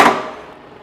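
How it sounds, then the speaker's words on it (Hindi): A slipper die-cutting press, worked by a foot clutch, punches through slipper material with one sharp, loud thud that rings briefly and fades. "ये देखिए सर, कितने आराम से आपकी चप्पल कट गई है।"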